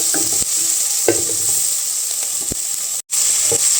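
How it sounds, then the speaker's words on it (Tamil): Onions and tomatoes frying in a pan for a taro root curry, a steady sizzling hiss with occasional clicks of stirring, close and continuous with a brief drop near the end. "இது கூட இப்போ நம்ம தக்காளியும் போட்டு வதக்கிக்கலாம்."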